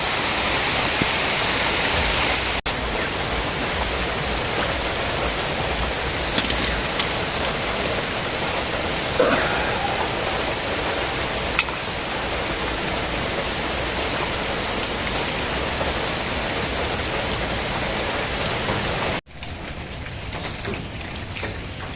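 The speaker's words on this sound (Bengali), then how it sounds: "এই যে বৃষ্টি" Steady rain pours down outside near a balcony, a dense, even hiss that holds at a constant level for the whole stretch and dips briefly near the end.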